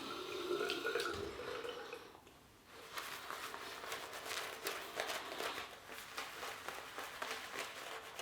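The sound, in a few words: adding water to a shaving brush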